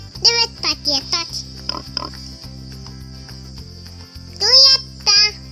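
Playful piglet oinks and squeals in a children's counting song, several quick grunting bursts up front and two louder squeals near the end over a steady bouncy beat; a voice sings between them.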